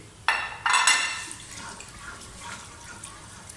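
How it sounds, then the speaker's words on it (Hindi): Whole spices drop into hot oil in a pot with browned onions for mutton korma, setting off two sharp bursts of sizzle close together that fade to a quieter, uneven crackle. "इसमें सबसे पहले हम ये खड़े मसाले अपने सारे इसमें ऐड करेंगे और इसे 1 मिनट के लिए भून लेंगे।"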